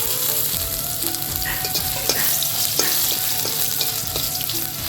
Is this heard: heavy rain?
no